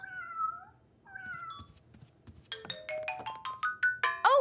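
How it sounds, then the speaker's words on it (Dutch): A new mobile phone ringtone made of cartoonish meow-like tones plays in a rising series of bright, chirping notes, starting with a couple of isolated calls and then speeding up and growing louder toward the end. "Mijn nieuwe mobiele telefoon. Ik ben nog steeds op zoek naar een geschikte ringtoon."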